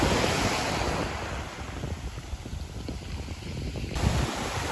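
Ocean waves wash up on a sea glass beach in a steady, loud roar of surf, with wind buffeting the microphone throughout.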